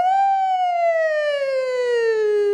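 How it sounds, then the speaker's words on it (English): A loud emergency vehicle siren wails close by, its single tone sliding slowly downward with no voices present. "I mean, the sirens."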